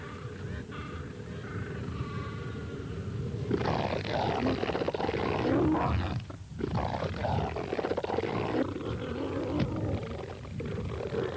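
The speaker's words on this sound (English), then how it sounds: "Young male elephant seals spar on the beaches, establishing their social status for a breeding season several years in the future." Young male elephant seals spar on a beach, giving loud, rough, continuous roaring and bellowing calls that swell and fade across the stretch, with a brief lull midway.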